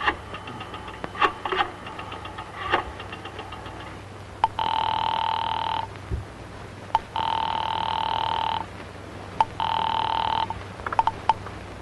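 A house telephone rings in an old mystery radio drama, three long electronic-sounding ring bursts with gaps between, over low background hum and a few clicks, no talk during the rings.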